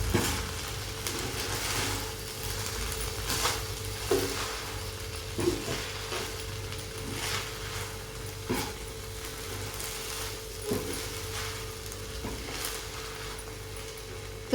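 A spoon scrapes and stirs coconut rice around a pan for Narali Bhat, with steady close stirring and scraping over a low sizzle, with no talk.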